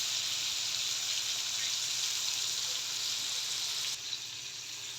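Breaded cutlets frying in a pan make a constant bright sizzle close by that drops suddenly to a quieter hiss near the end, with no talk.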